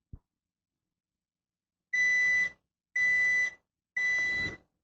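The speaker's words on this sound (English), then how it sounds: "as you can hear, the timer just went off." Three evenly spaced electronic beeps, loud and sustained, from an air fryer timer after a brief silence.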